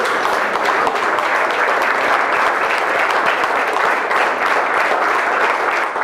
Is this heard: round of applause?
yes